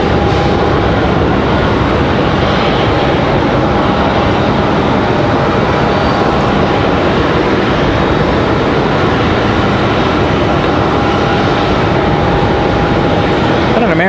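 Delta flight 1407 from Detroit, an airliner at Raleigh-Durham airport, produces a constant broad rumbling roar with a faint steady tone running through it, holding at an even level throughout.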